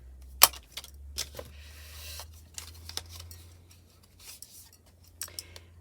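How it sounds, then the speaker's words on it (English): Scissors cut a corner off a paper faux ticket, giving a few close, crisp snips and rustles of paper over a low steady hum, with one sharp click near the start. "I'll cut a little piece off of the corner like you do with a tag."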